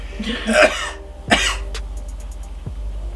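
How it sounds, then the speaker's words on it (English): Two or three sharp coughs burst out close by, spaced apart, with a short throat-clearing sound between them and quiet room hiss around. "I'm trying not to cough."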